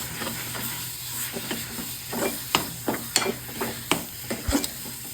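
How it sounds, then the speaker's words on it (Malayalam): Plantain pieces are stirred in a sizzling pan for pazham varattiyathu, with irregular spoon scrapes and knocks close by over a faint, steady frying hiss. "അപ്പൊ ഇതുപോലെ ഇളക്കി കൊടുക്കണം"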